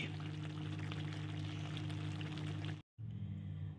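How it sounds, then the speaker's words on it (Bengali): Raw mustard oil poured into a finished drumstick chorchori with poppy seed, mustard and cumin, a steady close liquid pour with a brief break near the end. "জাস্ট লাস্টে একটু কাঁচা সর্ষের তেল দিয়ে দেবো"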